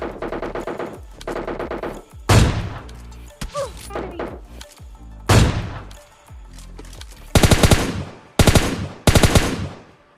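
Loud gunfire in a battle royale rush match comes in several short automatic bursts and single heavy shots, separated by brief pauses, close and dominant.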